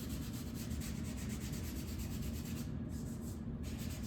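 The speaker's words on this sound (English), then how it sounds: "Got a piece of 220. Just lightly sanding it" Acrylic body filler on a speaker cabinet is lightly sanded by hand with 220 grit sandpaper, a steady close rasping rub running continuously with a couple of brief pauses near the end.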